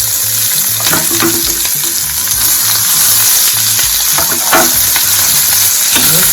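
Shredded cabbage is tossed in a frying pan with mustard seeds, turmeric and asafoetida, making a loud, continuous sizzle broken by repeated scraping stir strokes of a spoon, close up and with nobody speaking.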